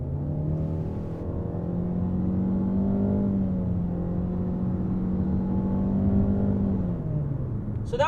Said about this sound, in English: I'm going to put my foot all the way to the floor on the entrance ramp for the highway